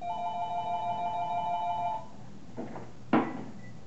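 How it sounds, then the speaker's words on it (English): A telephone rings indoors with a steady electronic trill for about two seconds, then stops, followed by faint rustling and a sharp knock or thud. "the phone's ringing."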